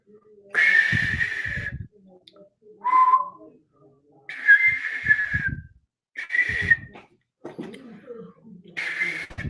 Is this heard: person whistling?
yes